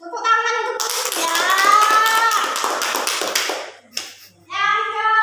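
A room of teachers and students in an Indonesian training session claps hands in a quick rhythmic burst, mixed with voices chanting and talking nearby.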